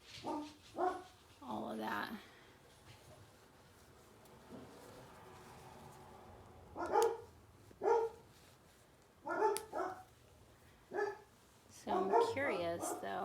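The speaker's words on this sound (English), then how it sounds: "Sorry about the dogs, you guys." Several dogs bark in sharp, repeated bursts at varying distances, some yips mixed in, around someone talking indoors.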